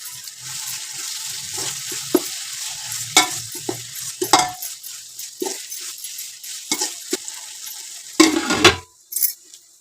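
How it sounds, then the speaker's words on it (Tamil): Tomatoes with ginger-garlic paste and salt stirred and frying in a pan for mutton nalli biryani, a steady sizzle under repeated scraping strokes of a spoon against the pot, louder clattering scrapes near the end, no talk. "தக்காளி வந்து நல்லா கிளறிடுங்க"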